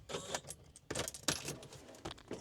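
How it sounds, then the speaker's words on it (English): Keys jangle and clink close by as they are pushed into the ignition of a Mercedes Sprinter van. Bursts of metallic rattling come in irregular clusters, fairly loud, with no talking. "stick in my keys"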